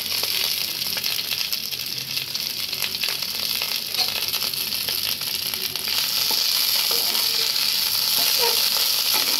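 Garlic and green chillies sizzle and fry in a hot pan while quail eggs and dried fish are being cooked at home, a steady, close, continuous hiss with occasional stirring scrapes and faint background voices.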